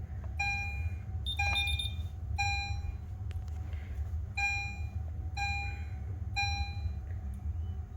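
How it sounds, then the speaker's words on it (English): A DSC PC5020 security system alarm sounds during a test, pulsing in steady repeated beeping bursts roughly once a second over a low background hum, moderately close and without talk. "And now the alarm is going off."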